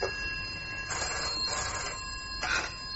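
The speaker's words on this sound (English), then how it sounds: "answer that phone" A telephone rings with a bright electronic bell in repeated bursts, about three rings within a few seconds, fairly close and alone with no talk.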